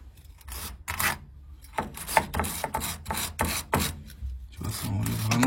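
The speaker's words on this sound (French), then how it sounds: "tu peux envoyer un petit coup de brosse métallique" Wire brush scrubbed hard against metal pipe threads to clear residue while replacing a water heater safety group, giving repeated rasping strokes in an uneven rhythm, close and fairly loud.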